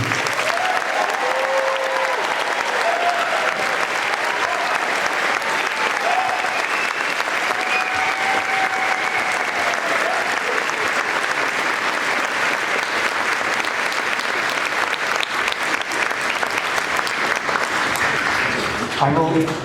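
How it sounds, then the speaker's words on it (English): An audience at a high school graduation ceremony gives the graduates a sustained round of applause, dense loud clapping filling a hall for nearly twenty seconds with a few cheers rising over it. "If you could give a round of applause for all the graduates."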